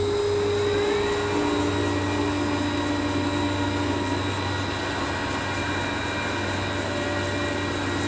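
A CNC lathe running a program with coolant in a small workshop, giving a continuous loud mechanical hum with steady whining tones and no voices.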